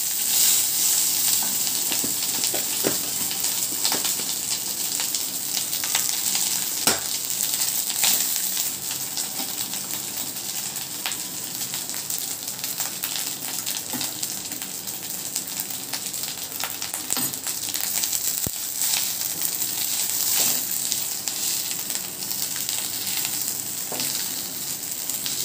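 Cooked rice frying in sesame oil in a pan, with a steady, loud sizzle throughout and occasional scraping clinks of a spoon stirring.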